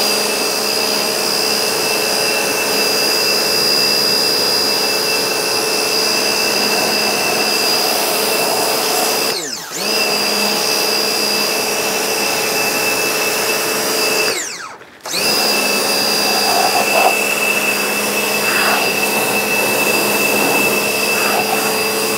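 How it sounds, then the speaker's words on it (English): A pressure jet washer blasts mud off a Proton Saga car in a long, loud, steady hiss and roar, broken by two brief pauses in the spray. "I need to just jet wash all this mud off here at the back"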